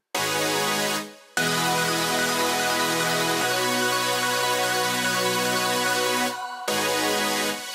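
A big stacked synth patch built from five layered parts, including an Echo Soundworks Enigma sound, plays sustained chords that shift every couple of seconds, with brief dropouts near the start and end.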